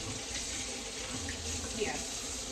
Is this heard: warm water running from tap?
yes